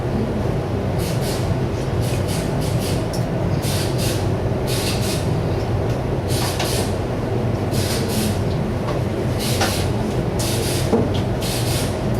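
Spray gun laying paint onto a car hood and decklid, a continuous airy hiss broken into repeated short bursts as the trigger is pulled and released, close and fairly loud.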